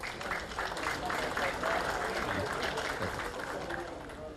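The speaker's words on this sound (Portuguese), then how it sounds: "Palmas para o nosso irmão Bártalo." A crowd at a Masonic gathering applauds a speaker with sustained clapping, while voices murmur underneath.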